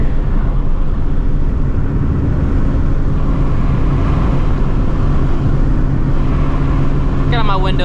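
A supercharged Shelby GT350 pulls hard at full throttle in third gear, a loud, dense, unbroken engine roar heard from inside the car, with a short whining burst right at the end.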